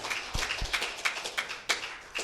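Scattered hand claps from a church congregation during a sermon, a sparse, irregular patter of individual claps at low level rather than a full roar.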